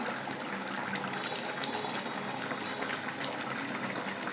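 Pangas fish curry bubbling in a pan, a steady, soft boiling hiss and gurgle that carries on evenly throughout without talk.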